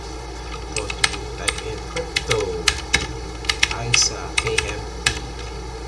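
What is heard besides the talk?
typing commands on a computer keyboard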